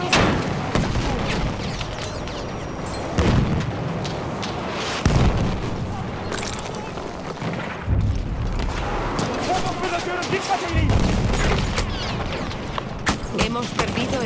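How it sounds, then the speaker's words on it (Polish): Grenade explosions from Battlefield 1 in a naval battle, repeated booms and bursts scattered over fourteen seconds amid ongoing gunfire and battle noise, with in-game soldiers shouting around them. "Dikkat. Bomba atıyorum."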